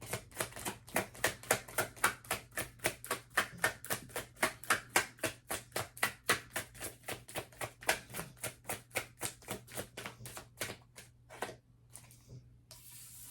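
Rapid, rhythmic riffling of a deck of cards, dozens of crisp snaps in a steady stream that slows and thins out toward the end, close and alone.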